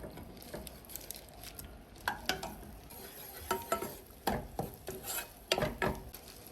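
Butter poured into a pot on a stove for butter chicken, then stirred, giving scattered soft scraping taps and light sizzling at close range.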